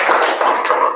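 A seventh-grade class in Sumba claps hands together in a dense, steady burst of close, loud clapping lasting about a second.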